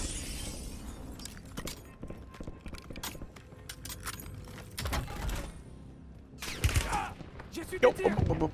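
Gunfire in a Call of Duty: Warzone battle royale match comes as sharp bursts and rapid cracking volleys. Some shots are distant and some are close, with a loud flurry near the end, under game noise and faint voices.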